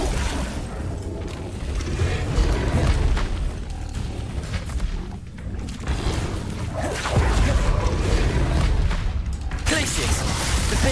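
Spell explosions from Bombarda in Hogwarts Legacy, heavy booming blasts repeating through a dense, continuous stretch of combat noise with whooshing effects, loud throughout.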